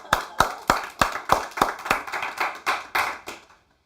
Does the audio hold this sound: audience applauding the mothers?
yes